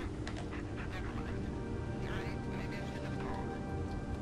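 A dog panting in the video game Blair Witch, quick steady breaths held close over a constant low game ambience, with a brief whine partway through.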